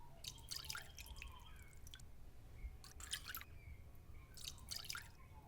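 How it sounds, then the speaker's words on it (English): Water hisses and sputters as it is poured into a hot pan of frying pork and vegetable dumplings, coming in three bursts of crackling sizzle over a low steady background. "Pour in enough water to cover the bottom of the pan."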